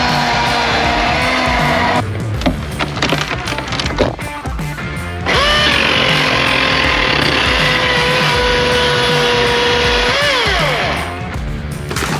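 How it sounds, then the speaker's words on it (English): A Milwaukee battery chainsaw whines steadily, chewing through a wall with rough grinding and rattling bursts, then holds a high sustained buzz before its pitch drops. "We're gonna try use the Milwaukee chainsaw."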